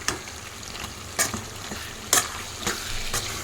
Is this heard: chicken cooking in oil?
yes